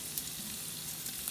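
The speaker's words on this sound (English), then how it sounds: "Let's stir it up a little bit." Roasted potatoes being stirred in a hot pan, a soft, steady sizzle with faint scraping, quiet and close throughout.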